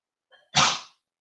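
A single sharp human sneeze, preceded by a brief inhaled catch, loud and close in an otherwise quiet room.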